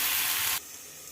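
Onions and green chillies fry in a pan with a bright, dense sizzling hiss that cuts off abruptly halfway, leaving only a faint low hiss.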